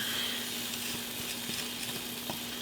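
Garlic and bacon sauté in a hot pan, giving a steady, close sizzle with soft crackles and faint stirring scrapes, along with a low constant hum in the kitchen.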